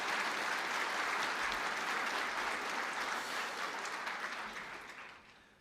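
Sustained applause from a graduation ceremony audience at GMIT as science graduates stand, a dense, even wash of clapping that gradually fades toward the end.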